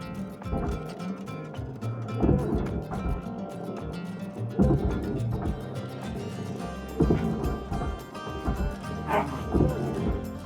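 A pet puppy barks and yips repeatedly indoors in a room, close and fairly loud, over a steady low hum in the background.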